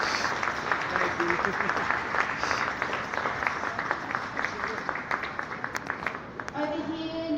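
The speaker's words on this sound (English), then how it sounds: "Let's give Scott and his team a big round of applause." An audience claps steadily at a glassblowing demonstration during the Canberra Winter Glass Festival, a dense, continuous patter of many hands that thins near the end, with voices mixed in.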